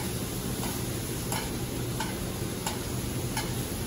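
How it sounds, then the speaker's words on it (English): Filet mignon sears in a hot pan while being basted, giving a steady close sizzle with a few soft spoon clicks and scrapes at regular intervals; no one speaks. "we can start slowly basting the meat. It'll help sear more of the top"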